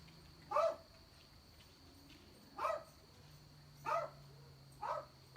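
Four sharp dog barks, evenly spaced about a second and a half apart, moderately near, over a steady low hum with no talking.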